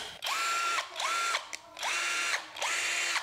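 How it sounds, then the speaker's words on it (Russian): A compact cordless drill-driver with two mechanical speeds, used on a home ceiling renovation, runs in four short bursts, each whirring up to speed, holding steady, then winding down, close and alone. "вот это вариант дрели и вариант шуруповерта"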